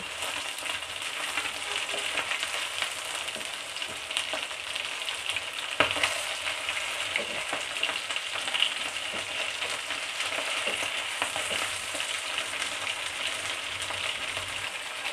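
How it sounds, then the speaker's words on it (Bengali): Pabda fish frying in hot oil gives a steady, close sizzle and crackle, continuous throughout with occasional spatters and stirring sounds, no talking. "পাবদা মাছ যেহেতু বেশি কড়া করে ভাজা যাবে না"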